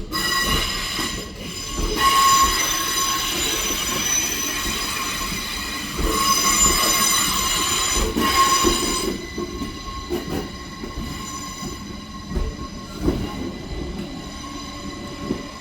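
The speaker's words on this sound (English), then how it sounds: "now departing is the delayed 1732 Northern service to Bradford Foster Square" A Northern passenger train departs Shipley station towards Bradford Foster Square, its wheels screeching in long high squeals over the rumble of the moving carriages, loud and close, then fading into lighter rail clatter as it pulls away.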